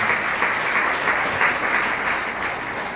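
Church congregation applauding in a steady, dense wash of clapping that carries on evenly for the whole stretch, moderately loud with no voices standing out.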